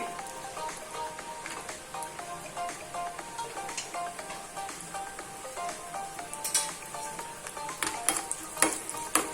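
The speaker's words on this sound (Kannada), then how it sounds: "ನಾನು ಎಣ್ಣೆಯಲ್ಲಿ ಹುರಿದು ಇವಾಗ ಬಿಸಿಯಾಗೊಂಡು ಬಂತು ಇದಕ್ಕೆ ಗೋಡಂಬಿ ಹಾಕ್ತಾ ಇದ್ದೇನೆ" Cashews fry in hot oil for moong dal payasa, a light crackling sizzle with scattered pops and the tap and scrape of a spoon stirring, steady and close with no talk.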